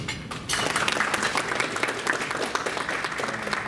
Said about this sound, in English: can we give Riley a round of applause as well?